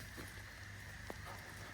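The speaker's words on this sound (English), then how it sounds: "it's starting to rain" Light rain begins falling outdoors in a garden potato patch, a soft, even patter of drops on the ground, faint and continuous with no voices.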